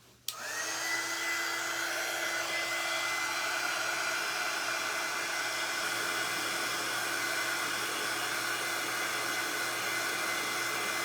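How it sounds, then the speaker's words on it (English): A heat tool blowing over a freshly painted hat piece for a primitive Halloween centerpiece, a steady close whirring roar starting abruptly and holding constant, with no talking. "And we'll hit it with our heat tool."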